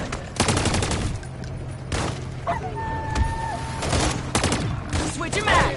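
Rapid bursts of gunfire from a video game shooter crackle in repeated volleys, with loud shots spread through the whole clip and voices calling out between them.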